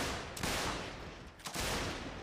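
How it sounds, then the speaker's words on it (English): Musket volleys crackle in ripple fire across a battlefield in the Mount & Blade North & South mod, two dense waves of overlapping shots rolling out under a constant noisy din, without talk. "Ripple fire coming in from the Rhode Islanders under the command of Barbaneth."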